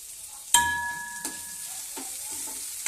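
Curry leaves hit hot oil with a sharp crackle and burst, then sizzle steadily for a couple of seconds, with a few soft pan knocks, close and alone.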